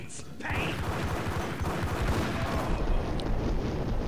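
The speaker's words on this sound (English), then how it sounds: "just a well-timed shot as I was shooting those guys" Gunfire from the video game Max Payne: a dense, sustained burst of rapid gunshots layered into a continuous loud clatter with booming low end, lasting throughout.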